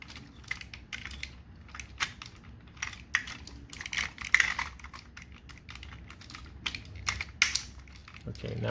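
Small plastic Tobot Galaxy Detectives transforming toy parts snapping and clicking as they are fitted together by hand, a run of close, light, irregular clicks and rattles with handling noise throughout.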